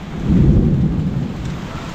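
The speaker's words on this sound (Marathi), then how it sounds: "आला आज पाऊस आमच्याकडे आला, जोरदार आला" Heavy Konkan monsoon rain pours down with a deep thunder rumble, loud and close, a continuous roar with no voices.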